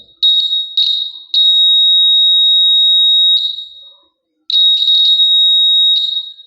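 A small electric buzzer gives a loud, shrill, steady electronic tone in long sustained blasts, cut by brief stutters and one clear pause before it sounds again.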